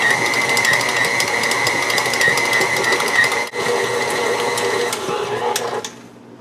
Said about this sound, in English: Now we need to mix all of these with our dough hook on low for 3 minutes